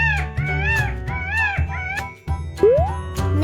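A peacock calls repeatedly with loud, wailing, cat-like cries that rise and fall in quick bursts, ending in a sharp upward shriek over a steady low background tone.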